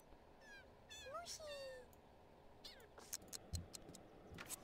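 A pet cat in The Sims 2 gives several short, rising meows close by, some overlapping with someone speaking, followed by scattered soft ticking clicks.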